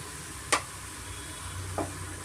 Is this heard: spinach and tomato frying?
yes